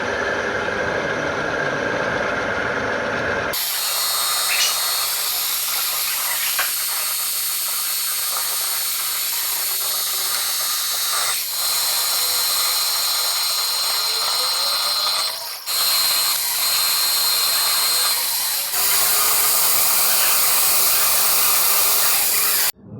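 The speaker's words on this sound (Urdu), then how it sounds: "ابھی ہم سب سے پہلے ڈرلنگ کر لیتے ہیں۔" A drill bores holes in a metal workpiece before countersinking and counterboring, giving a continuous loud hissing, grinding machine whine that shifts in level at a few points, with no talking over it.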